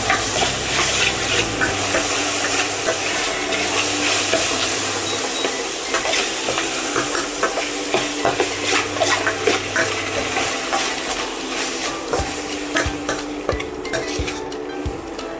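Tomatoes stirred in a hot pan while making puffed rice upma, a steady loud sizzle and frying hiss with a spoon scraping and clinking against the pan in repeated strokes.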